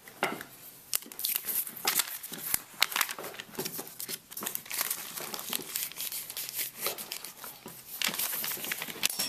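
Plastic bread bags crinkle and rustle continuously and close up while roadkill deer venison is packed for the freezer, a dense busy crackling with sharp crumples throughout and no talk.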